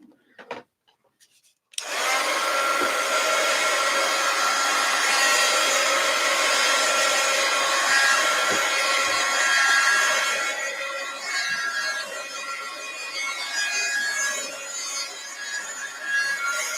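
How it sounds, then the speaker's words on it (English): A heat gun blows hot air in a steady, loud, broadband rush that starts abruptly after a brief quiet moment and holds nearly constant, easing slightly toward the end, with no talking. "I hit that with the heat gun."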